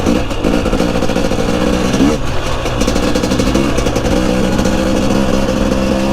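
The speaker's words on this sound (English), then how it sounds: "Alright, first ride on the 2023 KTM 250" A 2023 KTM 250 XCW two-stroke dirt bike engine running loud and close on a sandy first ride, a continuous buzzing drone with small throttle changes and no pauses.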